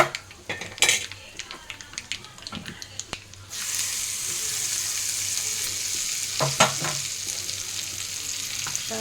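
Food frying in a pan, starting with clanks and scrapes of a utensil stirring against the pan, then a loud, steady sizzle rises and holds, with further metal scrapes partway through.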